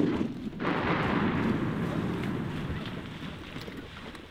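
Shotguns fire at ducks and geese during a hunt. A loud, booming blast is followed by a long rolling echo and outdoor rumble that fades slowly, sounding close by.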